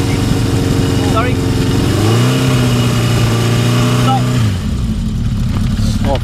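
A Yamaha XS1100 motorcycle engine runs close and loud at a rally, its pitch climbing and holding as the throttle opens, then dropping back toward a rough idle, with voices talking in the background.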